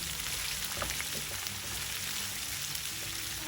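Sliced onion fries in tempering oil for thotakura vepudu, a dense, steady sizzle that holds evenly throughout at moderate loudness, with no voices.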